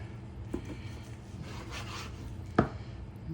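A knife slices through a smoked brisket flat, cut into quarter- to half-inch slices, giving soft close scraping strokes with a sharper tap of the blade near the end, heard alone.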